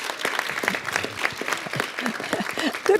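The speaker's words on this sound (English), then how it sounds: "I hate when anyone gets a bigger applause than me" Audience clapping at a city council meeting, a dense, steady patter of many hands held close and fairly loud for the full stretch, with no voices over it.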